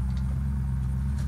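Car engine in the video game Unturned, a steady low droning rumble held at a constant level with no talk.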